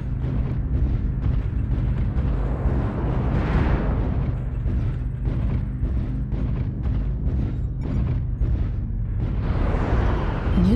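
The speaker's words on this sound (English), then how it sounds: "Warning, incoming missile." Missile explosions in the mech combat game MechWarrior Online rumble in a dense, continuous barrage of loud booms and bursts, with deep low-end roar throughout and a heavier blast swelling near the end.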